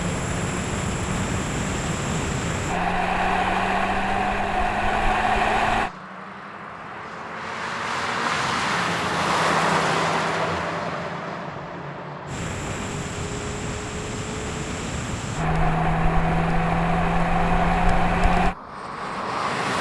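Volkswagen Golf GTI cars, including a Mk5, accelerate hard in a drag race, their engine notes rising and dropping through gear changes, with a roaring rush of wind between pulls and no talk.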